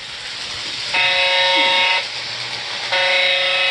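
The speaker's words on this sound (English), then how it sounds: "And the Erie Lackawanna RS3 now running the mainline." An Erie Lackawanna RS3 locomotive, likely a model on a mainline layout, runs with a steady hum while a bright buzzing horn sounds twice in long blasts, nearby and fairly loud.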